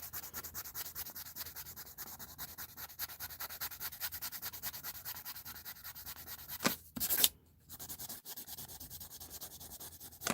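Steady, continuous rubbing of a blender pencil across paper over colored pencil, close and soft, with a brief louder scuff near the end before the strokes resume.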